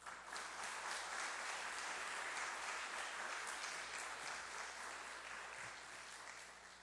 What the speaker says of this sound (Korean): 우리 목사님 나오실 때 우리 한번 박수로 이렇게 맞이해 주시면 좋겠습니다.